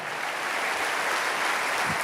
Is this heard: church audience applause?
yes